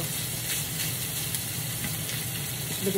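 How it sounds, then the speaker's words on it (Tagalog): Onions sautéing in a pan, a steady close sizzle with a bright hiss and soft crackle, continuous and heard alone without talk. "Igisa natin ng konti yung sibuyas."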